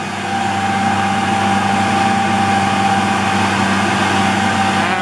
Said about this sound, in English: But I'm going to turn the blower on,